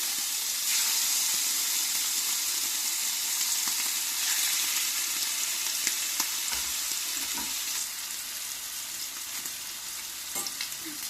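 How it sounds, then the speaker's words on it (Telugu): White pomfret fish frying in about ten spoons of oil in a pan over moderate heat, a steady close sizzle and crackle running throughout with occasional louder pops and stirring clinks, no voices. "ఇప్పుడు ఫ్రై చేసుకుందామండి"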